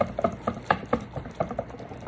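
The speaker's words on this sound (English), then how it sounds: "I'm just whisking it because you want to obviously get all the flour worked in." Whisking flour-and-water batter for garlic tortilla fry bread in a bowl gives quick, rhythmic close-up taps and wet stirring swishes, about four strokes per second, with no talk.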